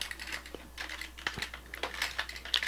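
Plastic parts of a Transformers SS86 Grimlock figure click and clack as they are folded and shifted, a quick run of small, close, irregular taps with no talking.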